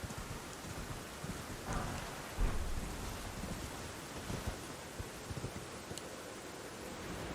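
Steady rain pours through a dark night in the Elden Ring video game, a continuous broadband hiss with a low rumble of distant thunder swelling briefly, heard alone without talk.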